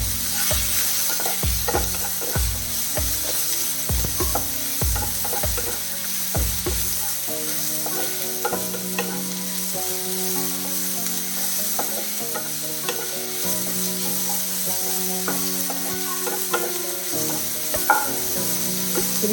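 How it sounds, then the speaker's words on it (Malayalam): Tomatoes sauté in a pan for Punjabi-style dal tadka, with a steady sizzle and frying hiss and repeated stirring scrapes and clinks. Dense thuds open the first seconds, then lighter stirring carries on without speech. "ടൊമാറ്റോ ഒന്ന് വഴറ്റിയിട്ടെ."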